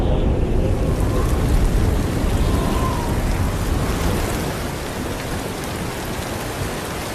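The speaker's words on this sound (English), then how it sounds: "Once it started raining, the lions started to lick each other" Heavy rain from a passing dry-season storm pours steadily in a dense, continuous wash, with a low rumble of thunder underneath; loud and close throughout.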